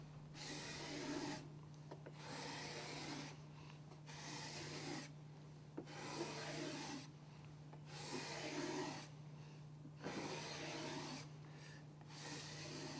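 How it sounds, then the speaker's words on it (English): A hand scraper smooths planer marks from a wood surface in steady, rhythmic rasping strokes, about eight passes with brief gaps between them, over a constant low electrical hum. "A scraper, in just a few passes, makes quick work of smoothing out the surface."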